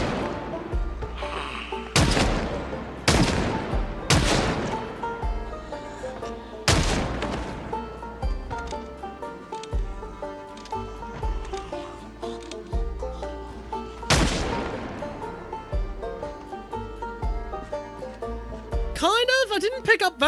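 Gunfire in the zombie survival game Project Zomboid: several loud, sharp single shots at irregular intervals, each followed by a ringing decay, with background game music and someone talking throughout.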